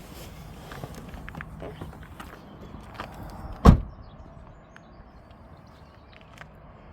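A Ford Explorer EV door clunks shut once, loud and close, after a few soft rustles and footsteps of someone getting out of the car; the rest is quiet.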